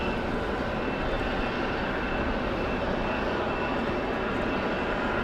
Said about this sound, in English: So another A220 ready for departure.